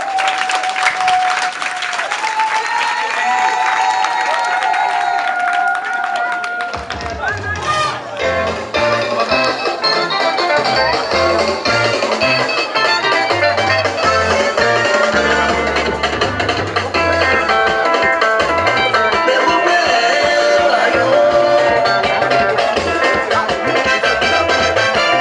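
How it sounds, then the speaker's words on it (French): A crowd at a family ceremony presenting a new Bossordji family head applauds loudly and continuously, a thick sustained wash of clapping with music or tones mixed in at the start. "Il faut les acclamer très fort"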